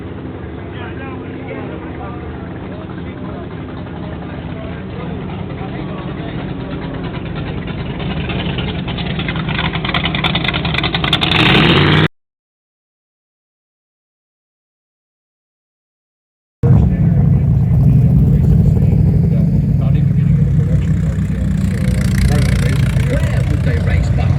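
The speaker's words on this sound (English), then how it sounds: "Another Ford Racer." A vintage Ford racer engine idles with a rough, steady mid-range rumble that grows louder, drops out briefly, then returns strong. People talk over parts of it.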